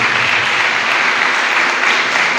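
Sustained, loud applause from a church congregation at a Thanksgiving Holy Mass on Pakistan's Independence Day, a dense, even wash of clapping filling the entire stretch without speech.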